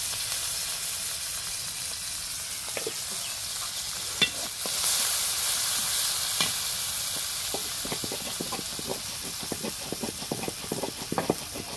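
Onions frying in oil in a pan give a low steady sizzle that swells briefly, then a run of quick clicking scrapes and taps from stirring toward the end, nearby with no speech.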